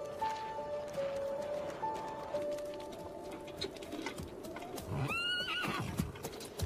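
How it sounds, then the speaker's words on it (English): A horse being hitched up whinnies and neighs, with hooves clopping beneath it and birds cooing in the background; the whinny rises sharply near the end of the clip. "I'll hitch up the horse."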